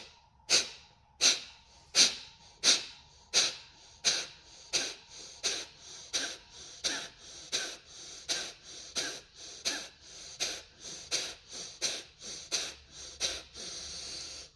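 Energising morning breathwork: a long run of rapid, forceful rhythmic breaths, about two per second, close and clear, each a sharp hissing puff through the nose or mouth, steady and even throughout with no talking.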